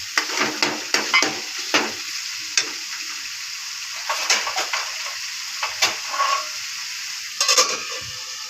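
Tomato dropped into a pan of frying masala for a Rawas fish curry, with steady soft sizzling and repeated scraping stir strokes of a spoon against the pan, close and without talk.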